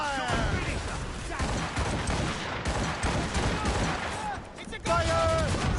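Ship cannons in Assassin's Creed Rogue fire in a dense, continuous barrage of booming blasts and crashing impacts, loud and close, with shouting voices over the battle noise.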